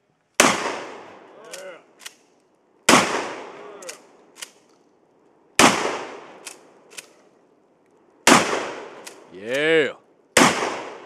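A Mossberg 500 pump shotgun fires at targets outdoors: five loud, sharp blasts spaced a couple of seconds apart, each decaying quickly, with brief pump-action clacks and voices between shots.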